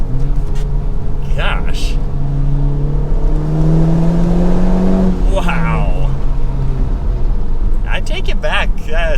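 A 2019 Honda Civic Type-R with a manual gearbox pulls hard from inside the cabin, its engine note climbing steadily, dropping at a shift, then rising again, loud and close, with brief exclaimed words from the driver.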